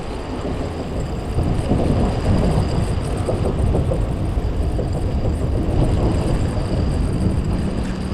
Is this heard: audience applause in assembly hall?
no